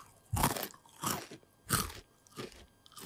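Bites into a Mr. Beast peanut butter chocolate bar give five crisp, close crunches spaced about every two-thirds of a second, each fading quickly into quiet chewing.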